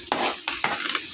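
Ginger, garlic and onion sautéing in a pan, a bright close sizzle with several quick stirring scrapes in a short burst, no talk.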